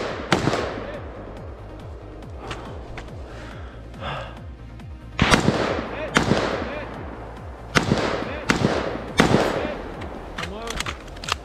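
Rifle shots ringing off steel plate targets at a rifle match, with seven or eight sharp, loud cracks spaced irregularly, some in quick pairs, each trailing off with a short echo.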